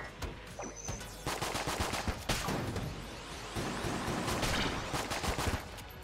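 Rapid automatic gunfire in the video game Enter the Gungeon, a dense continuous stream of sharp cracks with brief pauses, loud and close throughout.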